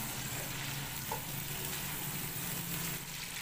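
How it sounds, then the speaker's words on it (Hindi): Chopped masala fries in a pot, a constant close sizzle and crackle of oil that holds at an even level from start to finish, with no voices. "जो हमारे पास मसाला था ना, उसको हमने फ्राई कर लेना।"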